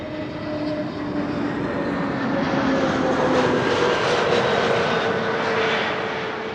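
A jet airliner roars loudly and continuously at Amsterdam Schiphol Airport, a broad engine rumble with faint whining tones that swells slightly as it passes close by; no talking.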